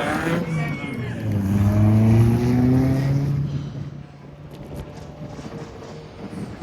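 Stock rod race cars lap a circuit, their engines droning and rising in pitch as they accelerate past, then fading to a distant rumble, with commentary over the top.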